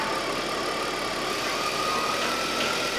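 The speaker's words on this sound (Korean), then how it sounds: "여기 쏘면 RPM 어떻게 변하는지 한번 봐봐요" A BMW X5 E53 engine idles with an air leak, a steady close mechanical hum and hiss that holds evenly throughout, with no voices.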